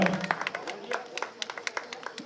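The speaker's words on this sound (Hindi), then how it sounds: "आप जो जरूर तालियों से स्वागत जरूर कीजिएगा" Scattered audience claps welcoming a guest at a village kabaddi competition in Deori, Balod, sparse distinct hand claps popping at irregular intervals over a soft murmur of voices.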